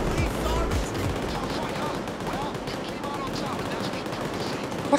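Sustained automatic gunfire from a gun in Payday 2, a continuous rattling stream of shots with people talking over it.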